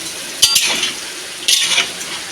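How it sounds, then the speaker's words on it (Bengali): Potatoes with pointed gourd fry in a pan, giving a steady close sizzle with two sharper scraping stirs of a spatula against the pan, one early and one later, and no voices. "এখানে আমি পটলের আলুটা ভাজা হয়ে যাচ্ছে।"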